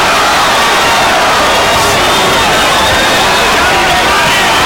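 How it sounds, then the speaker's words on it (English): A boxing arena crowd roars, screams and cheers steadily for Danny Romero in the Tapia vs Romero fight, a loud continuous wall of massed voices with no pauses. "Romero partisans in the crowd begin to scream and cheer"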